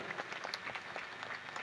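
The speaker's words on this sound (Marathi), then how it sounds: "एकदा जरा जोरदार टाळ्या वाजून पुन्हा एकदा" A crowd applauds at a palanquin worship ceremony during an idol consecration: faint, steady clapping from many hands, heard at a distance with no voices over it.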